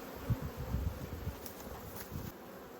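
A dense, low buzzing of many honey bees in an open hive drones steadily up close, a continuous humming swarm.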